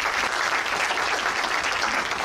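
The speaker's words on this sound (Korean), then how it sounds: "박수로" A school auditorium audience of high school students gives steady, dense applause that holds at an even level throughout.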